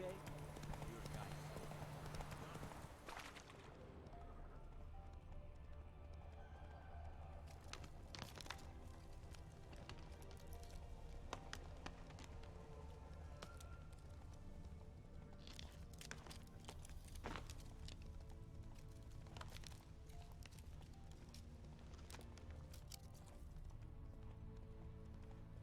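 Horse hooves clip-clop at a quick gallop in The Witcher 3 video game, a steady rhythmic pounding that runs throughout under game music and voices.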